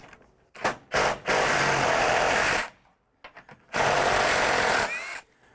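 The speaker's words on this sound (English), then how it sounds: "I'm going to go ahead and remove the bolt in either case." A power tool removes a car fender bolt in two loud whirring bursts, each a second or more long, with short stuttering starts and quiet pauses between.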